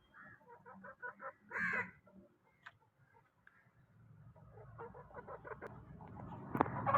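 Chickens on a small goat farm cluck and peck at banana pieces in their pan, with short bursts of clucking and soft tapping sounds at close range, followed by a low rising background rumble.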